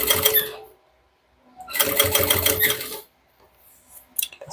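Sewing machine stitching a crossbody bag with synthetic piping, two close, loud bursts of rapid mechanical stitching separated by a pause, ending with faint clicks.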